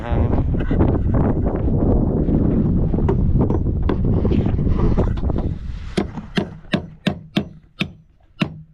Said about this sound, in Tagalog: Ayan, lakas ng hangin.